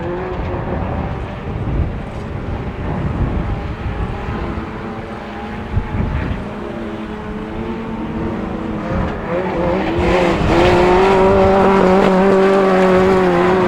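Autograss race cars roar around a dirt track at a St Neots meeting, with loud engines rising and falling as they pass and a high revving note swelling near the end. No one talks over the engines.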